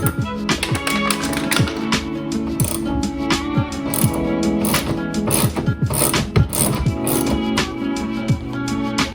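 Ratchet with a 10 mm socket backing out bolts on a Honda Civic hatchback, a rapid, steady run of close metallic clicks, loud and continuous with a few brief pauses in the rhythm.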